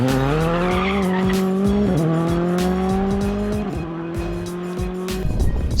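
R5 Skoda Fabia rally car powering along a rally stage, engine revving hard and loud and close, pitch climbing and dropping through gear changes, with tire squeal and gravel skids throughout.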